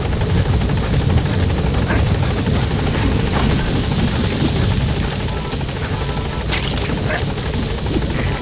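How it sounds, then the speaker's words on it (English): A helicopter's rotors thump steadily at close range in the video game Metal Gear Solid V: The Phantom Pain, a loud continuous whir and chop filling the whole stretch with no pause. "helicopter has arrived."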